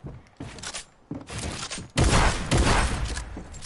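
Gunshots in a video game fired through a floor, several loud bursts of shots in quick succession with thuds, growing denser toward the end.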